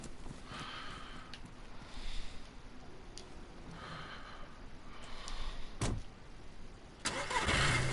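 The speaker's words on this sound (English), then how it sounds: "let's get back in the car. Let's go." A car engine in the video game DayZ, played on a PS4 private server, starts up with a rising roar near the end, after a stretch of steady engine rumble and ambient noise.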